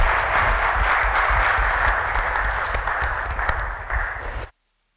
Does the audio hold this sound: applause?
yes